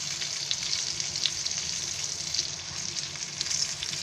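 Chicken leg pieces fry in hot oil with a steady, dense sizzle that holds at an even level throughout, close by and without any talk.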